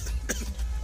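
A man's single wet cough, short and close, over a steady low background hum.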